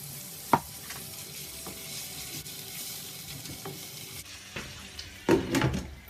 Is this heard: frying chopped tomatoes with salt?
yes